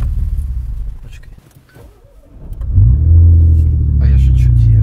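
A car engine revving with artificial engine sound played through speakers, a deep rumble that fades to a lull then swells loudly into a sustained drone, with people talking over it.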